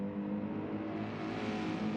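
A car engine outside drones steadily with a revving, faint and muffled throughout.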